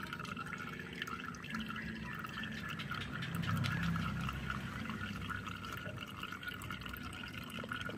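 Coolant draining from a car radiator into a container: a steady faint splashing and trickling stream, continuous throughout with a low background hum and no talk.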